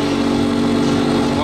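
An MG1 engine has just started at the Monaco Yacht Show and runs at a steady, close idle, a continuous mechanical drone mixed with crowd noise and nearby talk.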